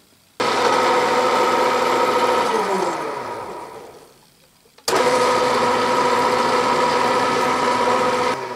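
A metal lathe in slow back gear taps a 3/8-24 thread, giving a steady, loud motor and gear hum. The hum winds down to near silence, then abruptly starts again at full strength.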